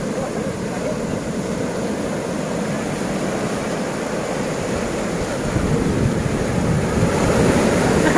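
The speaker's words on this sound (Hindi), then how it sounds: "और ये देखो लहरें" Ocean waves wash steadily onto Calangute beach in Goa, a continuous roaring surf mixed with gusty wind buffeting the microphone, swelling slightly louder toward the end with no voices.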